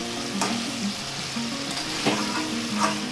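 Mutton kosha with potatoes sizzles and fries in a pan while it is stirred, with a steady hiss and occasional scraping strokes close by and no speech.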